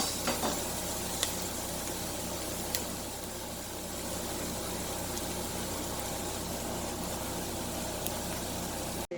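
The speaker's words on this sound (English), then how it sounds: "garlic, onion, and carrot have been, with a little olive oil, have been softening and cooking here over medium" Garlic, onion and carrot soften in olive oil over medium heat, giving a steady, quiet sizzle with a few faint clicks and taps, continuous and close, with no voices.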